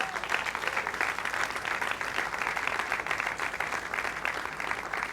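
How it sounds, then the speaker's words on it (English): Applause from an audience at a 40th birthday celebration, a dense, sustained clapping that stays loud and even throughout. "Please give him another round of applause."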